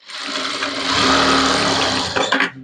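A sewing machine runs continuously, stitching lining cloth on a saree being converted to a maxi, with a loud, steady mechanical whir that falters briefly near the end.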